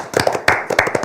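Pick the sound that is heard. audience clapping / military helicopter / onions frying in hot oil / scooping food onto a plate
audience clapping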